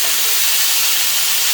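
Mop sauce sizzles on smoked baby back ribs, a steady broadband hiss of liquid hitting hot meat, loud and continuous throughout with no talk.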